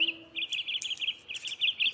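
Canary singing in a cartoon episode, a bright rapid run of high chirps and trills in short repeated bursts, close and clear with no talk.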